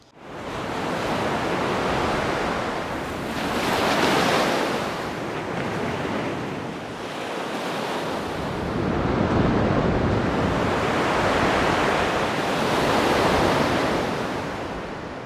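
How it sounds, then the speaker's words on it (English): Ocean waves rolling onto Boyeeghter Bay (Murder Hole Beach) in County Donegal, a continuous broad roar of surf swelling and easing in slow surges, with wind buffeting the microphone and no talk. "And welcome to Murderhole Beach."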